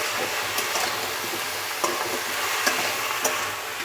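Spoon stirring turmeric and spices through cauliflower and potato pieces in a hot pan, a steady close sizzle with a few sharp scraping clicks, no voices.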